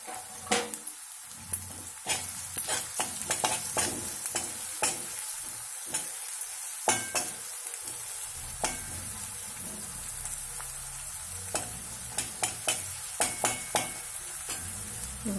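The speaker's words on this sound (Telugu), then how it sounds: "ఆనియన్ వేగాయి కదా, అల్లం వెల్లుల్లి ముద్ద 1 టీ స్పూన్ వేద్దాం" Onions with ginger garlic paste sizzle in a pan for a cauliflower curry, with a steady fry and frequent clicks and scrapes of a spoon stirring against the metal, and no talking.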